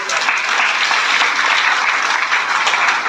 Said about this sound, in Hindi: सबके लिए ताली बजा दो एक बार